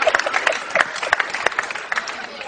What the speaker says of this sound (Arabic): تصفيق على الأمة العربية.